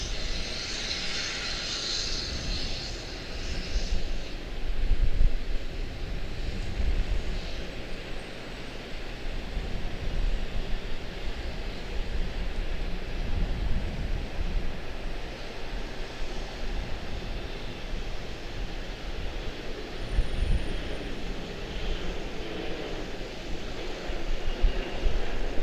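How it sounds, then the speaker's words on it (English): Airliner departing Charlotte Douglas International Airport for JFK, a steady distant jet engine roar and rumble that holds for the whole stretch with slight swells, no talking. "Super smooth departure to JFK."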